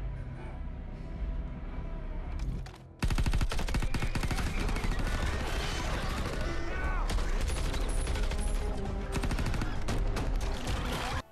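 Gunfire in a futuristic film: loud, rapid bursts of automatic weapons with dense rattling volleys, a short lull, then sustained heavy shooting mixed with other action sounds.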